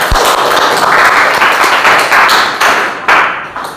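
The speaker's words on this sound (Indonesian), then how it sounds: "Tepuk tangan buat kelompok 3." A classroom group of students gets applause, close and loud clapping from a small audience that holds steady and then tapers off near the end.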